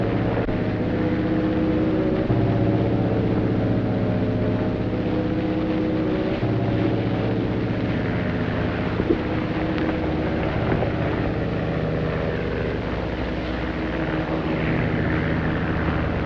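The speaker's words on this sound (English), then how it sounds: "The same plane that was over last week" Propeller airplane passing overhead above a desert water hole, a steady, loud droning engine hum that holds throughout with a slight swell and fade, no voices.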